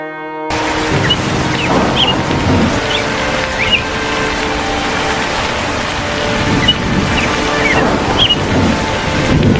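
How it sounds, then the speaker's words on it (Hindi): A cartoon rain sound effect starts abruptly after a brief tone, then settles into a steady, full hiss of falling rain with faint chirps scattered through it. "बारिश शुरू हो गई।"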